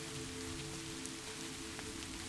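Steady rain falls on surfaces outside a forest cabin in the evening, a soft continuous patter with faint droplet ticks and a low hum underneath, with no voices.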